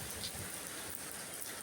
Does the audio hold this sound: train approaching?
no